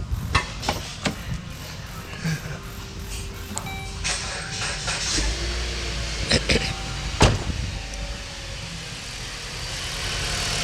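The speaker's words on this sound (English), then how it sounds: "All right, guys, the car is now running." A car with a weak battery is jump-started from a jump box. The starter cranks, then the engine catches and settles into a steady idle, with clicks and knocks along the way.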